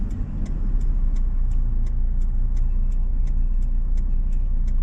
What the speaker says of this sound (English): I'm communicating with my blinker that I am making a left-hand turn